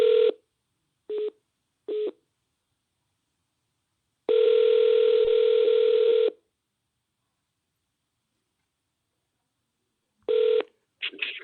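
A telephone call begins with a few short dialing tones, then a long ringback tone. After a pause of several seconds, more short tones follow, all clean and alone.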